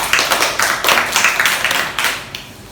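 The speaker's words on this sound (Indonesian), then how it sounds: "Tepuk tangan untuk orang ini." A small classroom group applauding during a microteaching lesson: brief, loud, close clapping from a handful of people in quick uneven bursts, fading after a couple of seconds.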